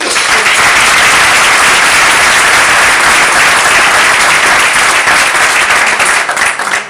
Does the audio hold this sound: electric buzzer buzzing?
no